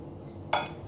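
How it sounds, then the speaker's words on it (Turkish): A spoon scrapes and clinks once against a bowl while mixing crushed biscuit crumbs with butter, a short, close, moderately loud scrape over quiet room tone. "Kaşık yardımıyla karıştırıyorum."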